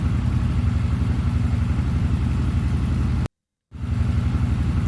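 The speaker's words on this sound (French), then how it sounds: "on a même eu droit à ce doux son qu'est son moteur" An unmodified car engine runs at a steady rhythmic idle with a low pulsing throb, close and continuous, briefly cutting to silence near the end before resuming.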